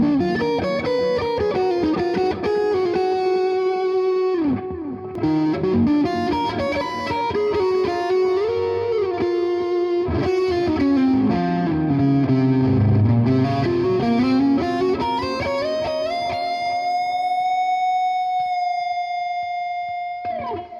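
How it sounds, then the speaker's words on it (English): Buffalo FX Reticon flanger pedal in its fixed, non-sweeping notch mode, processing a sustained distorted electric guitar with a hollow, comb-filtered metallic tone as chords ring and slide for about twenty seconds, ending on a held note. "The matrix switch here puts it into a kind of notch mode where it takes out of play the rate so it doesn't sweep up and down."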